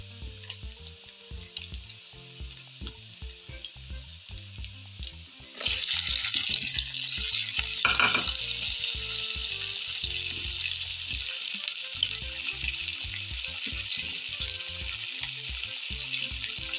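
Tomatoes and green chilies go into a pan of chana daal, where a quiet background suddenly gives way to a loud, sustained frying sizzle that holds steady to the end, with no speech.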